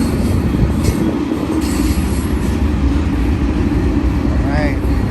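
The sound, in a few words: BNSF freight train coming out of Sullivan's Curve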